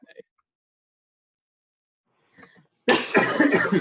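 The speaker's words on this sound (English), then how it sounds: "I'm just gonna cough the whole time." A single loud, harsh cough bursts out close up after near silence, preceded by faint small sounds.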